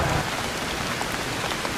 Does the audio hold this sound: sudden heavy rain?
yes